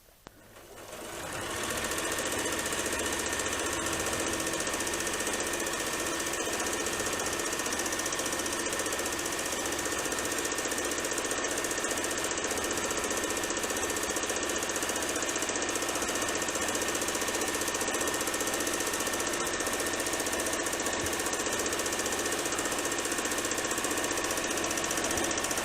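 A sewing machine stitching at high speed during free motion quilting, a loud, continuous mechanical whir and rattle that starts up abruptly and runs steadily without pause.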